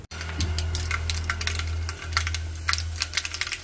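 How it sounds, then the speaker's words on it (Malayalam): Mustard seeds spluttering in hot oil, many sharp rapid pops crackling unevenly over a steady low hum, close and fairly loud, no talking. "കടുക് പൊട്ടി തുടങ്ങി"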